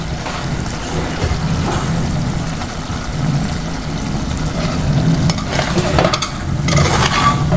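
Jackfruit seeds and core being stirred in a pan, a steady frying hiss with soft scraping and clinks of the spoon running throughout, close and continuous.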